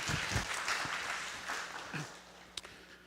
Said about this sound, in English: we should own him and Tzu Chi a big applause for their good doing